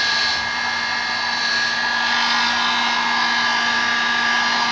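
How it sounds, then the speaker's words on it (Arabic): A repaired electric heated hair brush runs with a steady, loud motor whine and fan rush, unbroken and close throughout. "المشط ديالنا هو رجع خدام مزيان"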